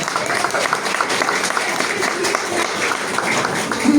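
Church congregation applauding, a dense, continuous wash of clapping from many hands filling the room at steady loudness.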